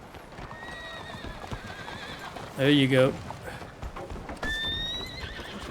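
A horse in Red Dead Redemption 2 whinnies once loudly and close, a short neigh set among soft hoof clip-clops, while someone talks over it before and after.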